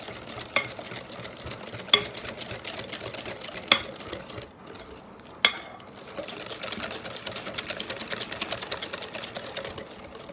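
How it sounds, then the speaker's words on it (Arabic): A spoon stirs a flour mixture for Iraqi Najafi dahinia dessert, giving a steady close scraping and swishing with a few sharp knocks against the pot and no talking. "هسه هذا ظل اخلط فيه حتى افرغ الطحين"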